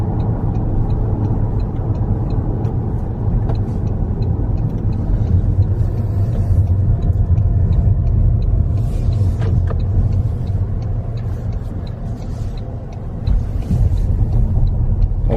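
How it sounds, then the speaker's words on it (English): A 2025 Toyota Camry SE rolls over gravel off-road, with a steady low engine and tire rumble throughout, loud and close, and faint crunching and knocks from the loose surface. "Little off-roading for a second with the Camry."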